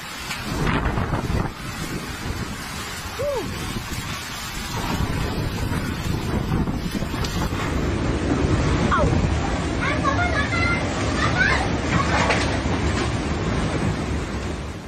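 A storm in Adana, Turkey, with strong wind and heavy rain gives continuous buffeting wind noise and rushing rain, loud and turbulent throughout, with gust surges and rumbles building toward the end.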